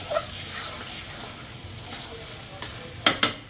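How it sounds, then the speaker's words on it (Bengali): Rice and dal fry in oil for khichuri under a steady sizzle, with a spatula scraping through it and two sharp clinks against the pan near the end. No talk. "খিচুড়ির জন্য চাল ডালটা আমি ভালোভাবে একটু কষে নেব"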